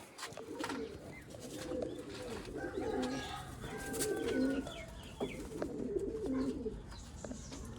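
Breeder pairs of pigeons in a Sialkot loft coo in soft, repeated low rolling calls across the whole stretch, with a few faint chirps and some light background noise.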